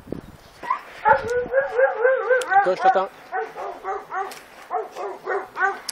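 A neighbour's dog barks repeatedly outdoors on a rural ranch property, a rhythmic series of fairly close yips and barks, with a person briefly talking over it.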